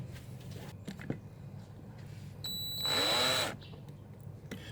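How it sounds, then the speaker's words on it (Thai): A power drill bites into a broken-off bolt, aiming for its center, in a single loud whining burst of about a second over steady low background noise. "พยายามเน้นเจาะให้ได้อยู่ตรงกลางนะครับ"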